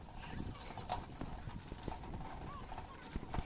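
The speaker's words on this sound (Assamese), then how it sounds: "এটা ঘোঁৰা চাওক দেখিছে না ঘোঁৰা দুটো আছে তিনটে ঘোঁৰা চাওক" Hooves of several horses clip-clop on a ride, the steady uneven beats heard close amid outdoor noise, with a brief whinny.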